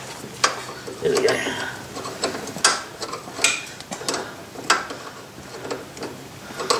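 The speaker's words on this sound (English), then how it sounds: "take this bolt here out." A ratchet wrench turns out a CV joint bolt on a car, giving repeated close clicks in an uneven rhythm with metallic clanks, while a person talks quietly under the work.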